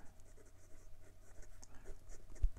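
A Sailor 1911 Large fountain pen with an extra fine nib writing on paper, a faint, close, soft scratching that continues steadily for a couple of seconds.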